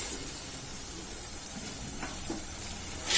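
Onions frying with ginger garlic paste in a pan give a soft, even sizzling hiss throughout, with a couple of faint stirring scrapes and a brief louder burst at the very end.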